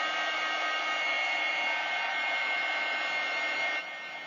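A heat tool blows steadily on a 3.5 x 3.5 inch art card to dry Copic marker and Posca pen ink, a loud continuous whoosh that drops slightly in level near the end, with no talking.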